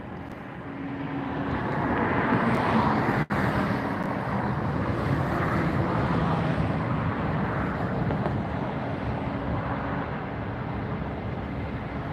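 WestJet jet airliner at LAX airport, a loud, steady broadband jet roar close by that swells and holds for several seconds before slowly easing, with no voices over it.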